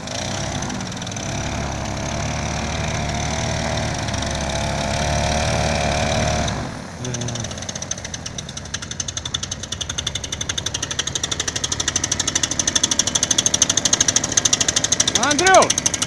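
A mini airboat's engine runs loud and steady, then cuts back briefly and comes in again rougher and more uneven as it revs, with people talking over it.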